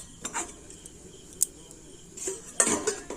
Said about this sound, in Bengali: এবার আরও দু থেকে তিন মিনিট নাড়াচাড়া করে কষাই করে নেব মাংসটা